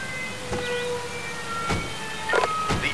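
An ambulance siren wails steadily in the Emergency 5 rescue game, a sustained tone running through the whole moment with a few soft thuds and clicks of game effects layered on top.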